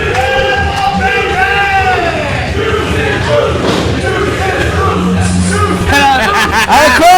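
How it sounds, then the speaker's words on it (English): A crowd at an independent wrestling event chants in loud, rhythmic unison, with cheering and an announcer's voice layered over the noise. "Our crowd chanting it."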